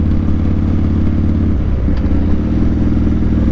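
A Harley motorcycle engine thrums steadily while riding along a rural road, a loud low rumble with pulsing vibration and wind noise, close up and continuous with no talking.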